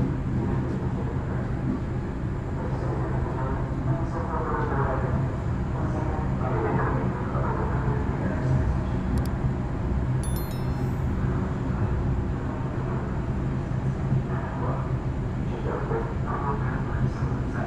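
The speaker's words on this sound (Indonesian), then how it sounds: "kereta api Jayakarta tiba di stasiun Cikarang" A Jayakarta Premium passenger train rumbles steadily at Cikarang station, a dense continuous roar with a brief high metallic squeal midway, loud and close throughout.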